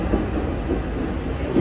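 Inside a moving tram, a steady low rumble and rolling noise fill the cabin, loud and constant throughout with no voices.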